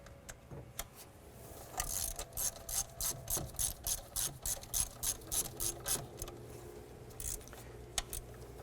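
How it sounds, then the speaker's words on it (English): A hand ratchet snugs down a 13mm alternator bolt on a Jeep Liberty, giving a long run of evenly spaced, close, crisp clicking strokes that trail off into a few scattered clicks. "grab that 13mm and we're going to tighten up that back bolt there"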